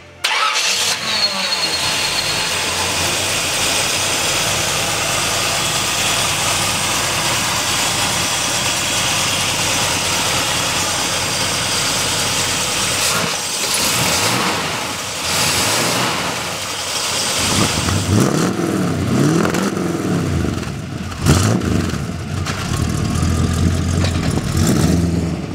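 A 1957 Chevy Bel Air engine starts and settles into a loud, rough idle heard up close, then revs up and down several times toward the end.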